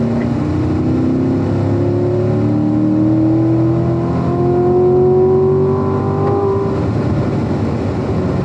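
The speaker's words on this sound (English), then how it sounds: "Keep accelerating now all the way down the straightaway." A race car accelerates down the straightaway of a driving-school circuit, its engine note climbing steadily through a gear with a loud, close, continuous whine and roar from inside the cabin.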